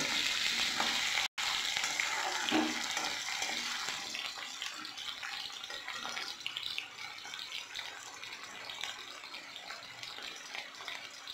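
Potatoes sizzle steadily in a pan with five-spice seeds, a dense close frying hiss with scattered stirring clinks, briefly cut by a short gap near the start.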